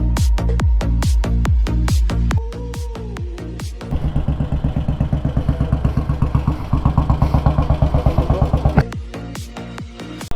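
A motorcycle engine runs close by, first with sharp separate blips and thumps, then settling into a steady, rapidly pulsing idle clatter before a few more revs.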